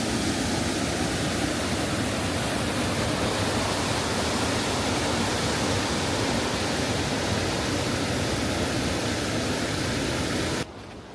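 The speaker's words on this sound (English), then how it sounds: "I hope you guys don't get sick and tired of me showing you waterfalls, but I love them." A waterfall rushes in a river setting in bear country, a loud, dense and unbroken roar of falling water that holds steady for the whole stretch before dropping away abruptly at the end.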